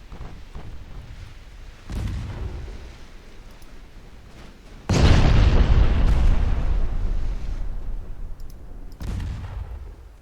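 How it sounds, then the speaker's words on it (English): Torpedo hits strike the armored cruiser Rochambeau in the naval game Ultimate Admiral Dreadnoughts, with deep booming blasts, one small thump followed by a heavy, sustained roaring explosion and a later rumble. "Two torpedo hits on the Rochambeau."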